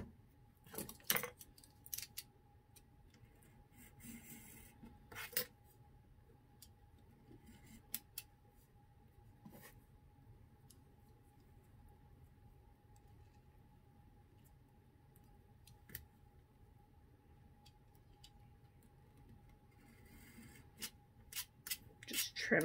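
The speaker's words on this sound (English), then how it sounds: "Just use my 3-in-1 multi-cut tool." A 3-in-1 multi-cut tool snips and trims material for a dollhouse smart TV in scattered, quiet close clicks and cuts over a faint steady hum, heavier near the start and the end.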